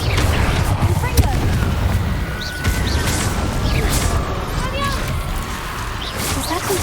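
Repeated Confringo spell blasts in the video game Hogwarts Legacy sound as booming explosions over a dense, continuous roar of battle noise, with spoken voices mixed in.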